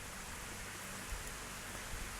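Steady, faint rain hiss falls evenly and continuously in the visual novel game If My Heart Had Wings, with no voices over it.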